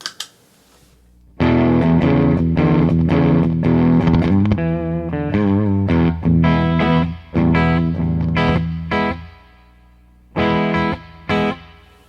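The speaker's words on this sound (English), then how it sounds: "just that little bounce in the background, that's the reverb." Electric guitar chords ring out with a spacious hall reverb, notes blooming and trailing off into the room between bursts of strumming, played alone.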